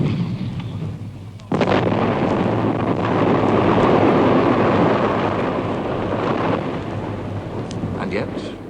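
Heavy German Krupp artillery guns fire in a sudden loud boom that swells into a sustained, rumbling roar lasting several seconds, broad and deep like distant thunder, with no voices.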